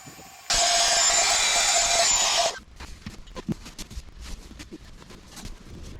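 An air compressor runs loudly and steadily for about two seconds while deflating an air mattress for a Rivian R1S or Tesla Model Y, then cuts off, leaving quieter rustling and handling noises.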